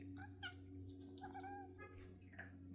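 A cat making soft, little bird-like chirps and trills, several short faint calls spread unevenly over a low steady background hum.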